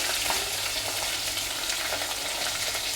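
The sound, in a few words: onion and green chillies frying in pan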